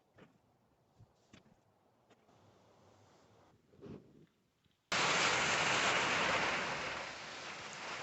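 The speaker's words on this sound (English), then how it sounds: "Right on schedule, the rain arrives." Rain sweeps in abruptly as a loud, steady broadband hiss that drowns out the earlier quiet background of scattered small knocks, continuing heavily to the end over a small-town mobile home under renovation in the fall.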